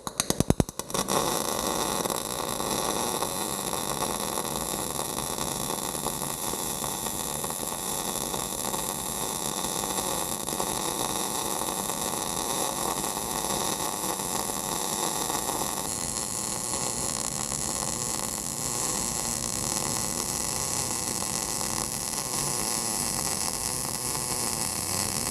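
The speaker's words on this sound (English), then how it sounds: "Now I'm going to take the welder and weld it up and do it again." Electric welding to build up a worn bushing on a bell, heard as a steady, unbroken crackling buzz and hiss that holds at an even level for about twenty-five seconds, with no talking.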